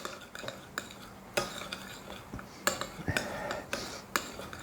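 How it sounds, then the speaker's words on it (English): A spoon scrapes and clinks against a bowl while cheesecake ingredients for a chocolate Hershey's crunch cheesecake are stirred, with irregular close taps and scraping strokes and no talking. "we're just going to stir those around just a little bit"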